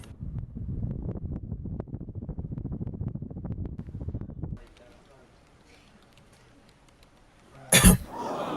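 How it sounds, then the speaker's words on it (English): A single sharp, loud cough bursts out near the end, after a stretch of muffled, rumbling noise and then near silence. "It was just a cough."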